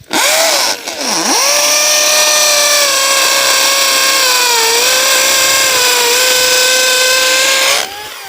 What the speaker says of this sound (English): I'm going to go ahead and drill all 8 of these holes, and I'm going to stop at my mark.